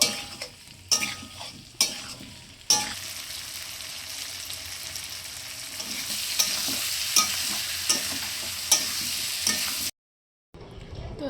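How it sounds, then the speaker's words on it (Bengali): A spatula stirs and scrapes a frying pan while cooking, making steady sizzling with repeated sharp metallic strikes; the sound cuts out briefly near the end, then resumes. "বেকার রান্না খুন্তি নাড়াচ্ছ"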